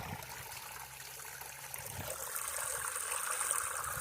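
Small creek trickling over rock in an Ohio woodland in December: a steady, soft bubbling and splashing of water that grows slightly louder toward the end, with no talking.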